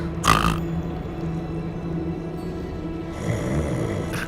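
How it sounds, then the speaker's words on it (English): Snoring from a sleeping character in the video game Hogwarts Legacy, a slow, rough, drawn-out snore with a louder snort at the start and another rise near the end, set over low ambient game hum. "It's just someone snoring."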